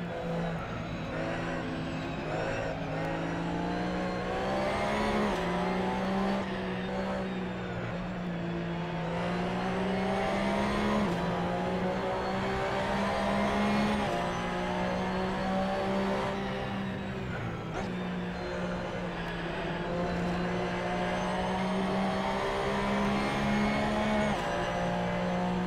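Race cars roar through a sim racing video game, engines holding steady high-pitched notes that rise and fall with shifts and braking; loud, continuous and close, with no talk over it.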